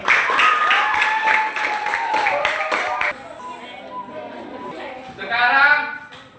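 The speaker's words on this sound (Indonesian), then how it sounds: "Oke, tepuk tangan untuk kelompok 3." A primary school class applauds a student group in the classroom, steady clapping over the first three seconds with children's voices and chatter continuing afterward.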